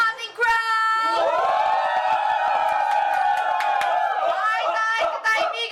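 A crowd at a UP Diliman campus student election event cheers with a long, loud, sustained shout and chatter that swells and holds for several seconds.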